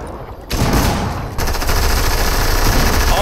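Dense, continuous automatic gunfire in a multiplayer shooter game, loud rapid bursts rolling over each other with a sharp jump in intensity partway through, no talking.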